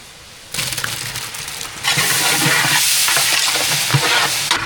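Tomatoes added to well-sautéed onions for chicken biryani, stirred and fried in a pan with a loud, steady sizzle and scraping strokes, close up and without any talk.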